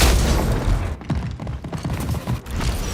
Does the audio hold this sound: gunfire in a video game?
yes